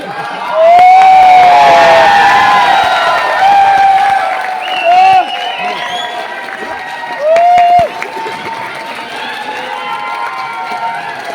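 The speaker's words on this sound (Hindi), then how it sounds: "ताली बजाओ" Loud audience applause erupts at a company leaders' training event, mixed with cheering, whoops and shouts that burst out in waves before settling into a lower crowd murmur.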